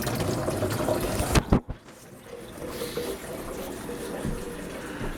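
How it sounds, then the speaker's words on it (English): Running water pours into a jug at close range, a steady splashing rush with a couple of sharp knocks partway through, then a quieter trickle continuing to the end. "Get some water in the jug"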